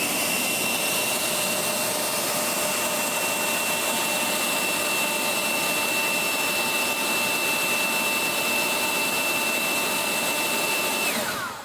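A Greenworks 60V battery leaf blower running on high, producing a steady loud whooshing roar with a constant motor whine that holds for about eleven seconds before cutting off abruptly, with no voices.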